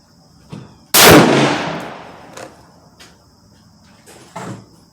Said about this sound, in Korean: 그냥 3발을 쏴 볼 거고요. 또 1 4 0인짜리도 3발을 쏴보겠습니다